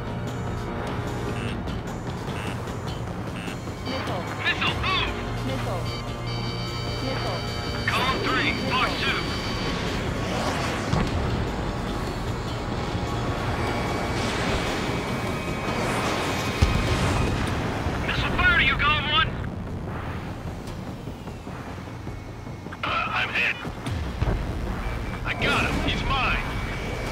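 Jet aircraft roar steadily through an Ace Combat 7 air battle, with missile launches and booming explosions rising in bursts over the constant engine noise, all loud and close, while voices talk over it.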